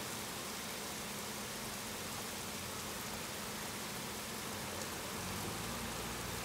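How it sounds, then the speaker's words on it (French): Torrential rain pours down in Lille, a dense, constant hiss of heavy downpour hitting surfaces, loud and unbroken throughout with no voices. "les pluies qui deviennent torrentielles"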